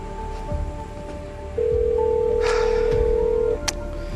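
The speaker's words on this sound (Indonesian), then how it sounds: "Coba aku telepon deh." A telephone dials out a call: a few soft tone blips, then a long, loud steady ringback tone lasting about two seconds, with faint rustling underneath and no voices.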